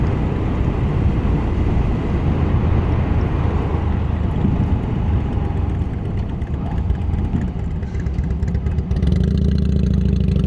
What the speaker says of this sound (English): it might be that the microphone will actually pick up the Harley in front